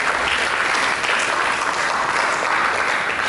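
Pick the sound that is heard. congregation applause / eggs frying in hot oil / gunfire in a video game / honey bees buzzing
congregation applause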